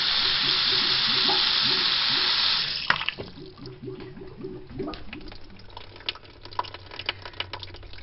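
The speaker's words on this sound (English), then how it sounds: "there's the clogging sound" Clogged bathroom sink drain: running tap water pours in a steady hiss, then stops, leaving repeated wet gurgles and glugs from the drain with scattered drips and clicks, close by.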